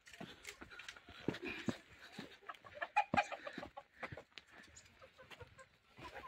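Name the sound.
chickens clucking in their coop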